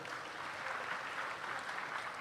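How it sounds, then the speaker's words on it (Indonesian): An audience at a talk claps in a steady, even wash of applause that lasts throughout, moderately loud and without voices over it. "Tepuk tangan untuk beliau."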